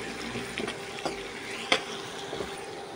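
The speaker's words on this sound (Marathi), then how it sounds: "कांदो मातशें भाजून घेता." Onion frying in a pan for mixed Hakka noodles, with a soft, steady sizzle and a few sharp clinks and scrapes of stirring, no voices.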